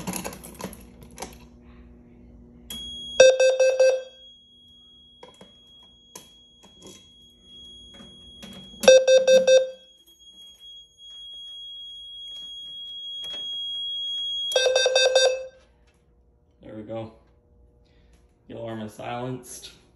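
A Notifier SFP-1024 fire alarm system sounds temporal 4 carbon monoxide alert tones, three bursts of four rapid beeps separated by long gaps. Keys and handling clatter come between the bursts, with brief talk near the end.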